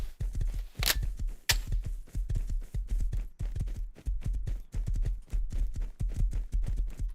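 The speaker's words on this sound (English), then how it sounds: "just drag my horse along." A horse's hooves clip-clop in the survival video game Rust, sounding as a close, steady series of sharp hoof strikes in a walking rhythm that keeps going throughout, with no talk.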